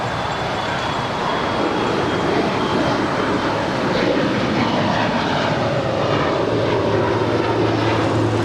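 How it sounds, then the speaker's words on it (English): A Delta Airlines Airbus A330 airliner at LAX, its engines producing a steady, broad roar that holds level from start to finish, with a thin high whine running above it. "That is Delta Airlines Flight 757 coming from Kansas City on this A330"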